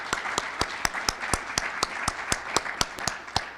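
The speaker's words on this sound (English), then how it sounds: "Let's give her a round of applause." Audience applause at a Rotary district conference, a steady wash of many hands with a few sharp claps standing out in a regular rhythm, fairly close and moderately loud, with no talk over it.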